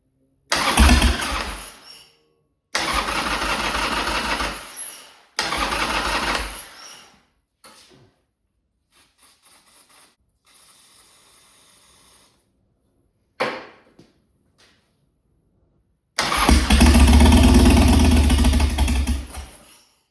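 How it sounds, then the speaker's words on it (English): A Harley Sportster motorcycle fitted with a Cobra 2-into-1 exhaust cranks and fires in several loud bursts separated by silent gaps, with faint handling noises between, then catches and runs steadily near the end, with no speech. "so the bike starts"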